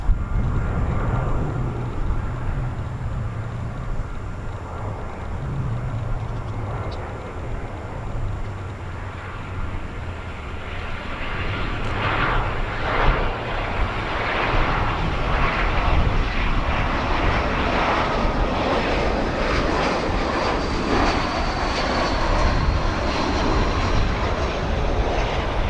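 Jet airliners roll and take off at O'Hare International Airport in Chicago, many of them United Airlines flights, with a steady loud engine roar that swells and rises into a broad rumbling thrust. No talking is heard over it.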